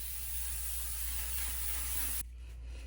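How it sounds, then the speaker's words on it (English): Makeup setting spray mists from a bottle in one continuous close, airy hiss lasting about two seconds, then cuts off abruptly into quiet room tone. "that is when I do the setting spray"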